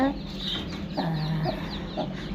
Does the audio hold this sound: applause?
no